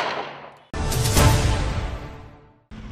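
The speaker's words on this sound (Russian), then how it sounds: "Выстрел!" A single loud cannon-like gunshot salute in Magadan booms and rolls away over a couple of seconds, with outdoor ambience before and after.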